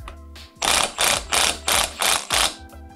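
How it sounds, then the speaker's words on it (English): An impact wrench on its lowest setting drives a 100 foot-pound nut on a Toyota Tacoma drivetrain during U-joint work, giving five loud, rapid hammering bursts of about half a second each, close up and evenly spaced. "This is 100 foot-pounds, so I'm just gonna drive it with my impact wrench for a bit."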